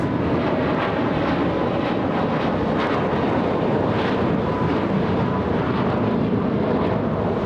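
A Hawaiian Airlines Airbus A330 takes off at LAX with a loud, sustained engine roar that stays dense and unbroken throughout. It is heard alone, with no talking.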